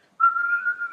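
A person whistles a single steady, sustained note to imitate the whirling whistle of a thrown kylie, an Aboriginal hunting boomerang; the tone is clear and close and lasts under a second.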